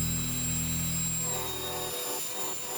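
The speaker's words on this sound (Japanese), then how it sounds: "こっちがアリエク最強ブロワー" A compact AliExpress car-drying blower, billed as the strongest, roars with a steady high-pitched whine and rush of air, then cuts off near the end, leaving a fading hiss.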